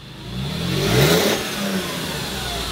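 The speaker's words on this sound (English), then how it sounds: "Here's the new exhaust. Gotta remember, it's a G320, so it's a V6." A Mercedes G320 V6 revs again through its new aftermarket exhaust, the note swelling to a loud peak, dipping, then holding a steady drone close to the microphone with no voices.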